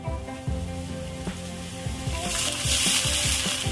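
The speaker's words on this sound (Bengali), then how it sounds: "এখন পেঁয়াজটা ব্রাউন হয়ে গেছে এবার দিয়ে দিচ্ছি আদা রসুনের বাটা" Ginger-garlic paste dropped onto browned onions in a pan for Medinipuri jhal mangsho, with soft rhythmic thumps and a steady tonal hum underneath before a louder, brighter sizzle swells toward the end.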